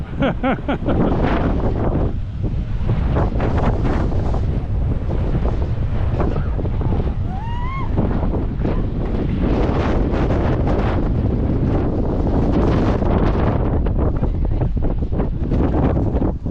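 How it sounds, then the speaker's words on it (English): Strong wind at the Red Sea coast in Sharm El Sheikh, Egypt, buffets the microphone in loud, continuous gusts, with faint voices and water sounds partly buried underneath. "it's really windy"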